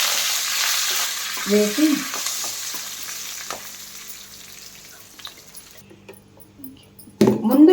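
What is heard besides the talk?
curry leaves frying in pan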